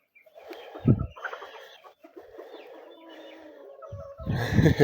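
Chickens on a farm, a blue rooster among hens, give clucks and short squawks close by, with a louder burst at the start and another near the end over a low murmur of bird calls.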